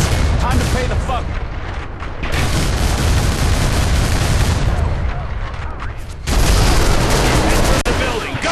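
Dense, loud gunfire fills the scene in the video game Call of Juarez: The Cartel, rapid overlapping shots and booms nearly continuous, briefly thinning before a louder burst near the end, with shouted voices mixed in.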